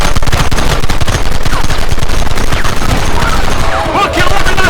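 Dense, loud video-game gunfire from Red Dead Redemption: a rapid fusillade of overlapping shots and booms continuing steadily, with shouting voices mixed in.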